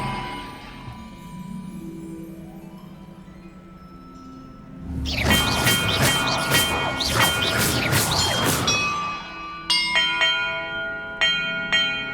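Large castle bells ring in the Hogwarts Legacy game, a loud burst of overlapping clangs after a quieter stretch, then a few single bright tolls near the end.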